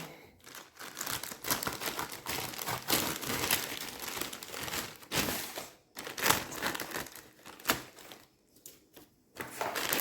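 Packaging from a parcel of coins crinkles and crumples close up while it is opened, in irregular bursts of rustling and tearing with short pauses.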